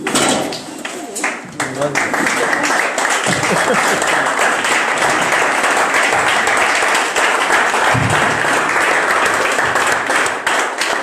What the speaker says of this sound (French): Par vos acclamations.